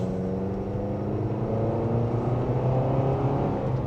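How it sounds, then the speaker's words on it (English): A Nissan Kicks in sport mode, starting from second gear, accelerates mildly with a steady, close engine drone and road rumble, the pitch slowly rising under continuous cabin noise and no talking. "And just a mild acceleration."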